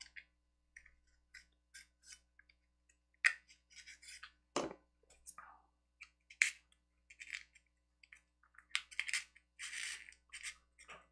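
Small scissors snipping paper for sci-fi tabletop terrain, a scattered series of crisp close cuts and light rustles at an uneven rhythm in a quiet room, with one duller tap midway.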